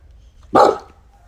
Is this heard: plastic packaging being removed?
no